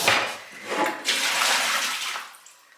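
Water from a tap splashes into a pot in a kitchen in a few short gushing bursts lasting under three seconds, close and moderately loud.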